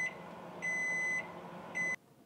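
Microwave oven beeping after heating water: three evenly spaced electronic beeps, each sustained for about half a second, loud and close over a low hum of room noise, then a sudden cut to quiet.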